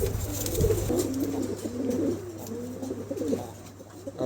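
Pigeons coo steadily and close by, their soft rolling calls repeating in overlapping phrases over a low background hum, with no one talking.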